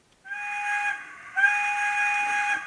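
A sound-equipped model train locomotive on a DCC layout blows its whistle in two close, fairly loud blasts, the second longer and sustained, with no talk.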